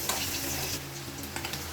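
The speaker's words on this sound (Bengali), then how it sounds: "এবার এই কড়াইতে একটু কালো জিরে ফোড়ন দিয়ে একটু পেঁয়াজ দেবো" Onion and black cumin seeds sizzle in hot oil in a wok, a soft crackling fry with faint stirring scrapes heard alone at low level.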